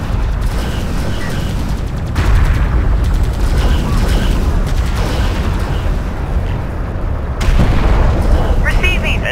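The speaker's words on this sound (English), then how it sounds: "Hostile railguns have opened up." Hostile railgun fire during a battle in Homeworld: Deserts of Kharak, heavy booming blasts and impacts rolling continuously under a dense, loud combat din.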